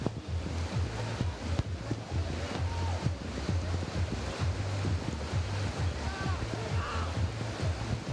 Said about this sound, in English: You can hear the rain hitting all of our microphones.